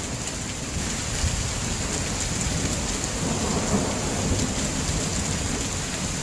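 Heavy rain pours steadily through a thunderstorm, a dense, loud wash of drops with low rumbling underneath that holds constant from start to finish.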